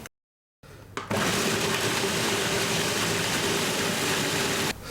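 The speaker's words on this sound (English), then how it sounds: "it's important to blend it really smooth as we do not want to have any large pieces of galangals and chilies in the gravy" An electric blender grinding ginger, onions, red chili, garlic and galangal into a smooth paste, starting with a brief click and then running as a loud, steady whir for about four seconds before cutting off.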